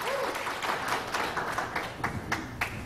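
A crowd at a 2018 Connecticut gubernatorial debate applauds, a steady layer of many clapping hands with a few sharper individual claps standing out near the end.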